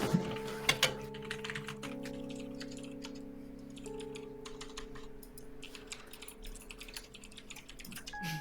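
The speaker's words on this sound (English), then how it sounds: "I love the typing in the background" Rapid, furious typing on a computer keyboard clatters steadily in the background for the whole stretch, dense and unbroken, with sustained tonal music underneath.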